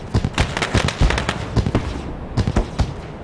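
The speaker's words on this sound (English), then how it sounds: "Maybe we can catch some of those fireworks just off of turn number 3." Fireworks bursting near turn 3 of Charlotte Motor Speedway after a Street Stock race, a rapid run of loud, sharp cracks and pops in irregular clusters with no talk.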